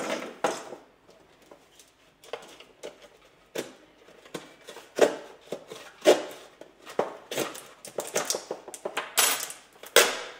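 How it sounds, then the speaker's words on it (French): GoPro Hero3 Black Edition packaging is cut open by hand, producing a series of close, sharp clicks, snips and plastic crinkles in irregular clusters that grow busier toward the end, with no talking. "Allez, on va essayer de découper proprement."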